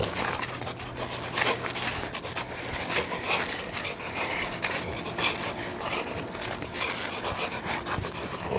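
A dog, Zula, pants steadily while playing tug, the breathing close and continuous, with some rustling and movement throughout.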